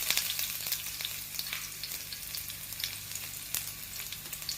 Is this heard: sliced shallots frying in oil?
yes